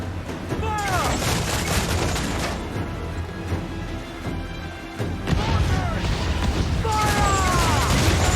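Broadside cannon fire from a sailing warship in Assassin's Creed IV: Black Flag booms in heavy clustered volleys over constant sea and battle noise, with a louder burst of shots near the end.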